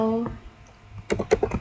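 A short burst of keystrokes on a computer keyboard as a switch command is entered during a port-security lesson; a brief voice at the start, then four or five crisp clicks close by.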